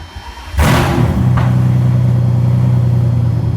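A Mercedes SL600 engine cranks and fires at once, then settles into a loud, steady idle that hums on without pause; no one speaks.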